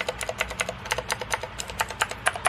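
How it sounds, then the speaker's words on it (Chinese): Rapid, uneven clicking from typing on a Rapoo V550 RGB one-handed mechanical gaming keyboard, with sharp close keystrokes arriving in bursts over a low steady background hum. "机械式的键盘，所以大家可以听这个声音"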